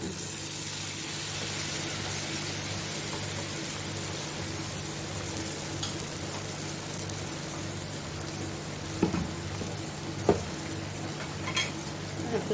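Bread patties frying in a pan of oil, a steady even sizzle that runs the whole time, joined by a few sharp clinks of a utensil against the pan near the end.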